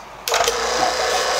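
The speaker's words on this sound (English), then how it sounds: "So I'm gonna go ahead and flip the pump on and we're gonna start our 1 hour of vacuum down." A vacuum pump on a car AC system during an R12 to R134a conversion switches on abruptly and runs with a loud, steady mechanical whir, alone and close.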